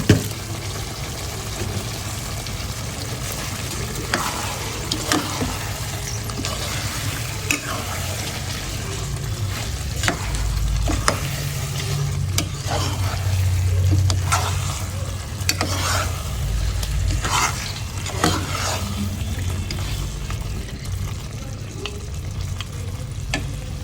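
Rice and meat stir-fried in oil in a pan, with a steady close sizzle and repeated scraping and stirring strokes of a spatula running throughout, no talk.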